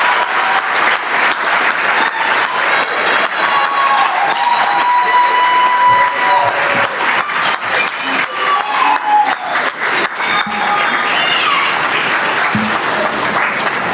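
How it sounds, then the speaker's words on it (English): Sustained, loud applause from a large audience for graduates at a ceremony, dense clapping continuing steadily throughout, with faint whistles and cheers mixed in. "Please join me in a round of applause for the graduates of today's ceremony."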